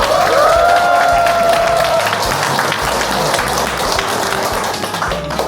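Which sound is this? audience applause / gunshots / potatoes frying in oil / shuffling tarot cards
audience applause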